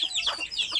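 Desi chickens give a short burst of soft, close clucks in quick succession, heard alone without talk.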